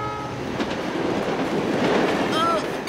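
An animated train races along rails, a steady rushing rumble with rhythmic clatter that swells in the middle and ends with a rising whistle-like tone, with some faint voices underneath.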